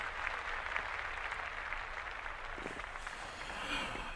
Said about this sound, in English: round of applause for OVO